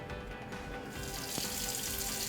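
Steady water running from a tap into a sink during handwashing, a continuous close hiss that grows slightly brighter partway through, heard alone without talk.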